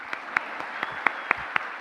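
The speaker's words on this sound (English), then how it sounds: "Let's just keep clapping." An audience at a university convocation applauds, a steady wash of clapping with sharp individual claps popping out at regular intervals.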